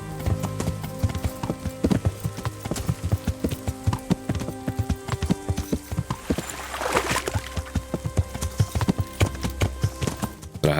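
A horse gallops in the medieval video game Kingdom Come: Deliverance, a steady run of rhythmic hoof beats with a brief whinny partway through, held close and continuous over a low ambient bed.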